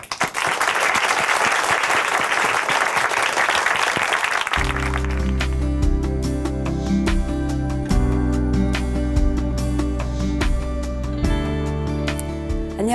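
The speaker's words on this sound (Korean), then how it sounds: "박수로 모시겠습니다" Strong applause from a church congregation welcoming a speaker to the stage, a dense wash of clapping that fades after several seconds as music rises and carries on alone.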